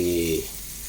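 Onions, tomatoes and green chilies fry in a pan, a close sizzling hiss that is loudest at first and quickly settles to a softer crackle.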